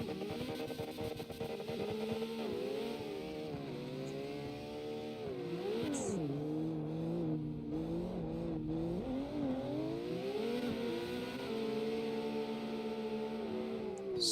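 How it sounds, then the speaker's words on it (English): Drift car engines rev at the start of a tandem drift competition, several rising and falling engine tones layered together, loud and sustained, with brief clicks and knocks in between. "I'm hearing engines rev up."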